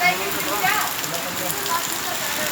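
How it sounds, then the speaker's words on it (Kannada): Heavy rain pours steadily in a town, a dense, even hiss of water on surfaces that stays constant throughout at moderate loudness. "ಒಳ್ಳೆಯ ಮಳೆ ಅಂತಾನೆ ಹೇಳ್ಬೋದು."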